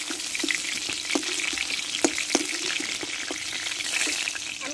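Pointed gourd pieces frying in oil in a pan, a continuous close sizzle with a few sharp clicks and scrapes of a spatula, no talk.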